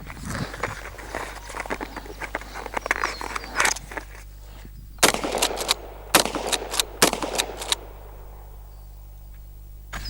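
Shotgun blasts from an Adler 12 gauge loaded with Federal 4 buck buckshot, fired outdoors at a target; several loud, sharp reports arrive in irregular bursts, mixed with shuffling and handling noise between shots.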